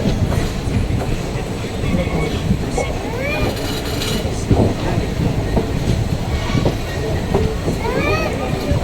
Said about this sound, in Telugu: ఇక్కడ చాలా ట్రైన్స్ అయితే ఉన్నాయి